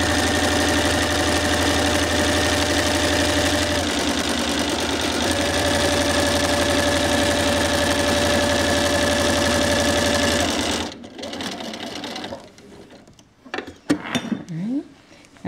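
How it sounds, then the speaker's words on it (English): A sewing machine stitches cross-hatch lines across fabric, a loud, close, fast steady whirring hum for about eleven seconds, then stopping, followed by fabric handling and small clicks. "drop my presser foot and stitch again"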